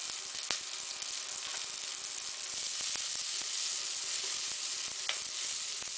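Steady, crackling sizzle of food frying in a hot pan, close and continuous, with a few sharp pops and clicks scattered through it.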